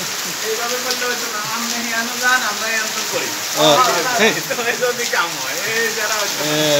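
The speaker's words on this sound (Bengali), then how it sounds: "দেখেন কি অবস্থা, বৃষ্টি আর বৃষ্টি" Heavy downpour during flooding at a school, a steady dense hiss of rain filling the scene throughout while someone talks over it.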